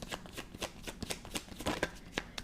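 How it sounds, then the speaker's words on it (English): A deck of cards being shuffled for a tarot-style card reading, a quick run of soft riffling slaps and flutters, close and quiet. "Let's pull cards on Carney"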